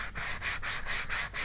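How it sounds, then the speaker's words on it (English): A sanding block rubs back and forth along the edge of a wooden door, a close rhythmic hiss of about six even strokes with brief gaps between, heard alone. "Pull out my sanding block."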